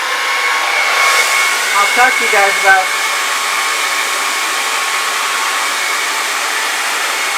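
A blow dryer runs loud and steady, drying acrylic pour paint, with a constant close whooshing hum throughout and a person talking briefly over it.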